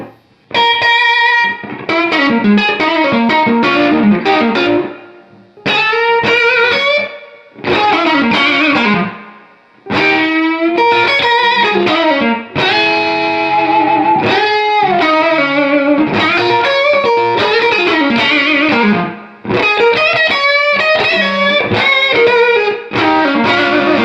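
A bright electric guitar on the neck pickup through a modded Boss SD-1 Super Overdrive pedal with the tone knob turned high plays high, ringing phrases in bursts with short pauses between them, loud and saturated with distortion.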